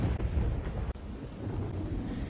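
Heavy monsoon rain with rumbling thunder over Thoradi village in Gir Somnath, Gujarat, a dense low roar of downpour and deep rolling booms, loud and continuous with brief dips.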